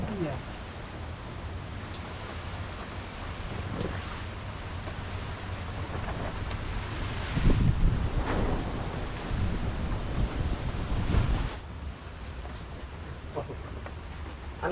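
Strong wind roars and gusts continuously, swelling in the middle, with rain-like hiss and a voice speaking faintly underneath.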